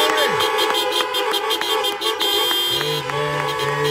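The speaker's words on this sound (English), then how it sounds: "honk your horn and give God glory." Car horns honk repeatedly from a parked crowd of vehicles at an outdoor drive-in worship service, overlapping blasts and toots in a steady loud chorus with engine hum beneath.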